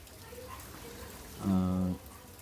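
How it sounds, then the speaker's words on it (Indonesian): Heavy rain falling outside a hotel room on a road trip, a steady broadband wash throughout, with a brief voice partly over it. "Oke, jadi sekarang lagi hujan ya, hujan deras sekali ini."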